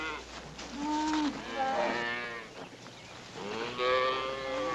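A herd of cattle moos repeatedly, several long overlapping calls rising and falling at close-to-middle distance over a steady outdoor background, with no speech.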